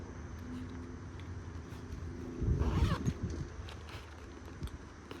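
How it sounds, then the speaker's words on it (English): A zipper on a small haversack pocket is pulled once in a short, close rasp against quiet room tone. "That goes in my little zipper pocket"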